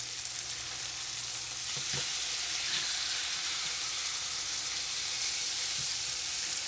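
A T-bone steak sizzles hard in a hot pan as it is turned over, a loud, continuous hiss of frying with a few soft knocks and clicks from the flip.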